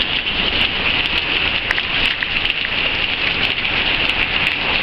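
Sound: pouring rain

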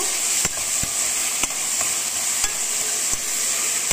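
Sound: frying onions and green chillies with curry leaves in a pan

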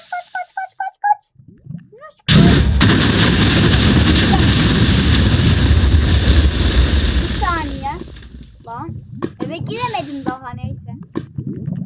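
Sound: 3000 TNT explosion in the video game Minecraft

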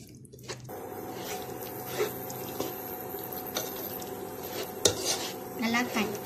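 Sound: stirring cashew paste into fish biryani gravy

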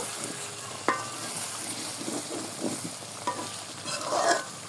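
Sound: stirring loitta fish curry sizzling in a pan

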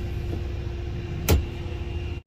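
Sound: 1997 Ford F250 7.5L pickup truck driving

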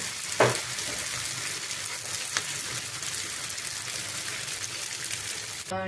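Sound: içli köfte frying in oil

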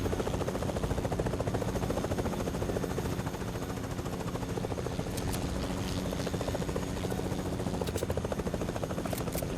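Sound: helicopter flying in the video game Fortnite

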